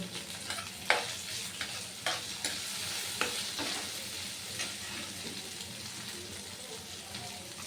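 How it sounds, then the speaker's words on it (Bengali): Chilli chicken with yellow capsicum and chillies frying in a pan, a steady sizzle under a series of sharp scrapes and clacks as it is stirred, close and fairly loud with no talk. "এখন ভালোভাবে নেড়ে চেড়ে দেব।"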